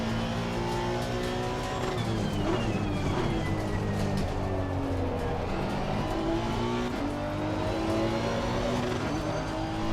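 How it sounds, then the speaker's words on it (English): A race car engine in Assetto Corsa Competizione, on a Barcelona circuit race, runs loud and steady at high revs throughout, with continuous harmonic engine drone and shifting pitch sweeps as it holds near the rev limiter. "No, hit the rev limiter."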